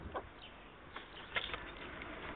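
Backyard hens clucking softly at a distance, a few short scattered calls over a steady low outdoor hiss.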